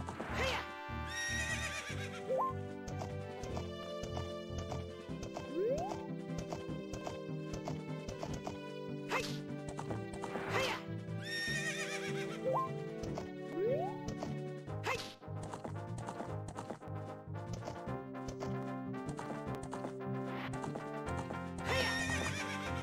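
Horses whinny several times amid clip-clopping hooves and thuds, all mixed into busy game music and effects in The Legend of Zelda: Ocarina of Time.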